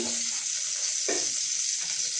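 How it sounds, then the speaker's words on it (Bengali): Onion sizzling in hot oil in a kadai, a steady close crackle with a brief sharper burst midway as the pan is stirred. "এরপরে আমি কড়াইয়ে এই পেঁয়াজটা ভাজবো"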